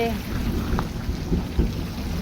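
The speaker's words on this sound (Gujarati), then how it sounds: "ફૂલ વરસાદ ચાલુ છે" Heavy rain roars in a dense, constant wash with gusty low rumble, close and loud throughout, no distinct voices standing out.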